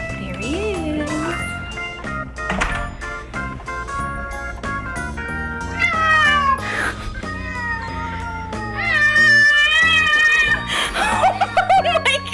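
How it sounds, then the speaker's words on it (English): A male cat meows and breaks into drawn-out, wavering caterwauls, loud and close, repeated over several seconds while people laugh and chuckle in the background. "My male cat, Benny, is gonna freak"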